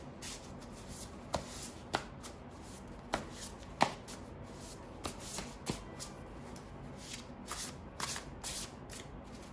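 Tarot cards are shuffled by hand in repeated riffles and slaps, crisp close papery bursts at an uneven rhythm with quiet gaps between, no talking.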